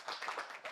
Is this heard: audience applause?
yes